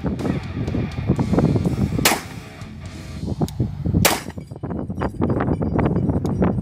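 Pistol fired with .22 Mini Mag 40-grain rounds, sharp cracking gunshots spaced at irregular intervals, two standing out louder and more piercing than the rest amid clattering.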